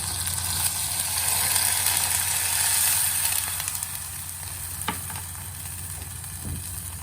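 Broth poured into a hot sinigang pot of shrimp and salmon gives a steady hiss and sizzle, with a few soft clinks and knocks of a utensil near the end.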